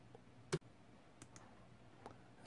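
A mouse clicks on an "I am human" verification checkbox: one sharp, close click stands out, followed by a few faint ticks against a quiet background.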